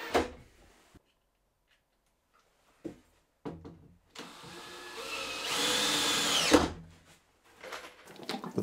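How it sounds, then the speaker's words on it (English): A power drill drives screws up through the underside of a workbench top clamped in place, a long steady whirring burst in the middle after a few short knocks and clicks, fairly close with no talk. "I can get some screws driven up from the underneath"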